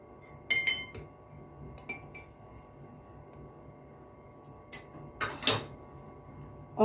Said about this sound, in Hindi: अब मैं एक कप ले रही हूँ, और इसमें मैं 1 टेबल स्पून कॉफ़ी शामिल कर रही हूँ